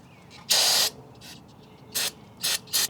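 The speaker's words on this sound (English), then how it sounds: "let me go ahead and spray that with a little brake cleaner" A sharp aerosol spray of brake cleaner hisses in one long burst, then three shorter bursts follow after a pause, close and loud against a quiet background.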